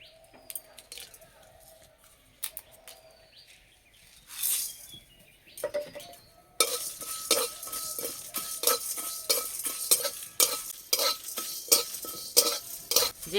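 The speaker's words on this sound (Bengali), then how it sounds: "এই কড়াই আমি গোটা মশলা ভেজে নেব" Whole spices such as cumin, fennel, peppercorns, coriander, dried red chillies, bay leaf and garam masala being stirred in a wok, quiet scraping at first, then a steady sizzle with repeated clinks of the spatula against the pan, close and without talk.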